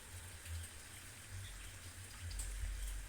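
Soft, steady rain falls at night with scattered drips over a low rumble. It is faint and continuous, and no voices are heard.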